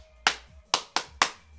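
Four sharp hand claps in a quick uneven rhythm, close and crisp, played as a pattern during a music-academy rhythm game, with no talking over them.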